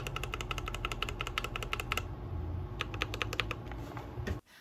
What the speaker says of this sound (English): On the keyboard, they sound like this.